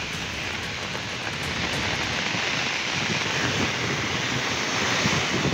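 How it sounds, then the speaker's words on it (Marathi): Strong wind and rain beside the sea at Marine Lines, Mumbai: a steady, loud roar of gusting wind and surf that swells slightly, with no voices. "तर जोरदार वाऱ्यासह पावसाच्या सरी या मरीन लाईन्स भागामध्ये सुद्धा कोसळत आहेत"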